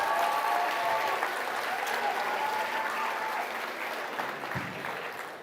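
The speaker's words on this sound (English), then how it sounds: "Let's give our future teacher a big round of applause." A crowd at a state fair goat and swine showmanship finals claps for a child in the ring, a long, even wash of applause that slowly thins near the end.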